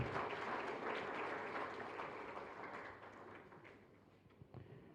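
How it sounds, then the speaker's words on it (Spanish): Applause from a church congregation in a chapel during a live Mass, a dense, steady wash of many hands that fades gradually toward the end. "Fuerte aplauso entonces para nuestra comunidad"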